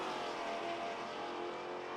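Maserati race car in the Assetto Corsa Competizione racing game at Zolder, its engine giving a steady, loud, continuous drone across the whole stretch with no talk over it.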